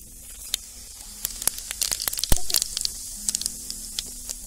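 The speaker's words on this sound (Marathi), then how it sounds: "आता मातीचं भांडं गरम झालंय, थोडं तेल ओतूया आपण. एक चमचा मोहरी टाकूया, एक चमचा जिरं" Mustard seeds and cumin crackle in hot oil in a heated clay pot, sharp irregular pops and spits over a soft steady sizzle, close and moderately loud, busiest in the middle.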